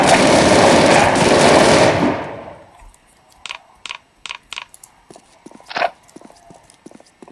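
Gunfire from a weapon in Postal 2, a loud dense roar of rapid automatic fire for about two seconds that cuts off, followed by a series of sharp, separate shots or clacks spaced irregularly in quieter surroundings.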